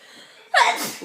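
A single sharp sneeze bursts out close by in a home kitchen where a girl is making her first paratha, loud and sudden after a quiet stretch, with a breathy tail.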